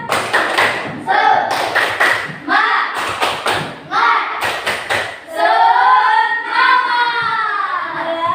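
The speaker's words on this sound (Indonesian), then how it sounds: "Tepuk semangat." Schoolchildren in an Islamic religious studies classroom do a patterned group clap, bursts of sharp claps in rhythmic clusters separated by short pauses, followed by the class chanting together in unison.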